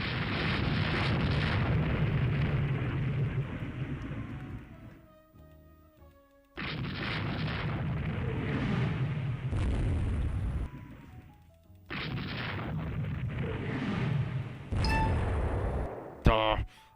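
Heavy 18-inch naval guns fire in the game Rule The Waves 3, long deep roaring booms in three or four sustained bursts that fade between salvos, with a few sharper pops and clicks in the gaps.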